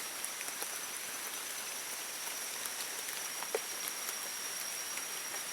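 Rain falls steadily outdoors in an even, close hiss, with occasional sharper drop impacts and no voices.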